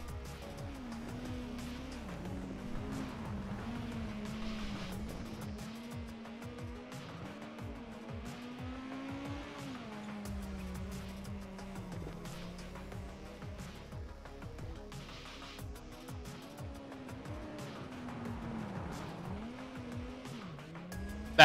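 A rally race car in WRC 9 drives flat out, its engine droning and shifting pitch steadily while the tyres squeal and skid through corners, continuous and close, with no talking.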